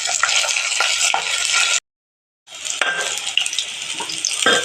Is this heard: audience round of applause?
no